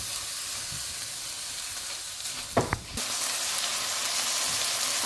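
Chicken chow mein ingredients frying in a pan with a tablespoon of vinegar added, a steady bright sizzle with a brief clatter of stirring midway before the hiss swells louder.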